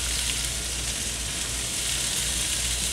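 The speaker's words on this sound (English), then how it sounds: "I'm going to add the peppers and the onion. Going to give them a little saute." Bell peppers and onion sauté in a hot pan while getting seasoned with salt and pepper, giving a steady, dense sizzle that runs unbroken and fairly loud from start to end, with no talking.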